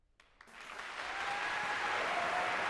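A live crowd applauds at the close of a performance of a song, the clapping swelling from a few scattered hands into a steady, full roar that carries on to the end.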